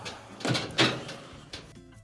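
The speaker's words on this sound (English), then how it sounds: "We'll go ahead and close the door." A clothes dryer door is shut during a motor assembly repair on a dryer that will not spin, giving a couple of close thuds and a latch click with some handling noise around them.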